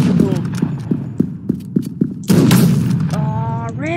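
Rapid gunfire from the Krunker shooter game, a string of sharp evenly spaced shots cracking close and loud, then a heavier burst of blasts near the end, with a voice talking over parts of it.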